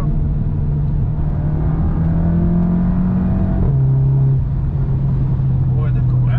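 Volkswagen Golf 7 GTI stage 1 engine pulling steadily under acceleration from inside the car, a loud continuous drone that rises in pitch, drops at a gear change, then climbs again.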